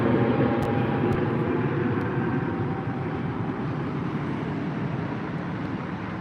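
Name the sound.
Turkish Airlines A321 airliner at Heathrow airport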